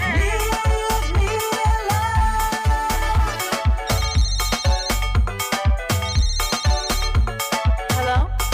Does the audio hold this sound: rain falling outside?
no